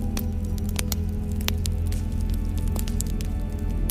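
Campfire crackling outdoors at night: a steady low rumble of burning with sharp pops and snaps scattered irregularly throughout, close and continuous, with no voices.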